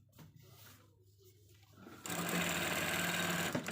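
A sewing machine stitches a hidden side seam on a shirt turned inside out, starting quietly then running loud and steady from midway to the end, close up with no talk.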